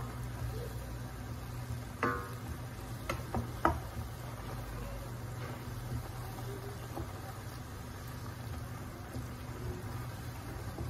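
Beef qeema frying and being stirred in a pan, a steady soft sizzle with a few sharp clinks of the utensil against the pan early on, fairly faint and close.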